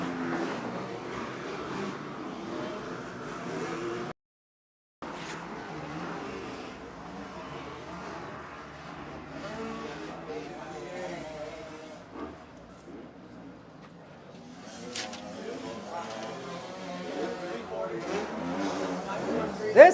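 Two-stroke motorcycles racing a full gate on a night dirt track, engines buzzing and revving steadily at mid distance with a brief dropout, then a rising pass near the end, under a commentator's continuous talk.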